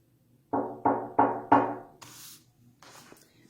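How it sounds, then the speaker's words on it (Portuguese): Four loud, evenly spaced knocks land on a door, close and crisp, followed by faint hissing rustles and no talking. "bateu na porta."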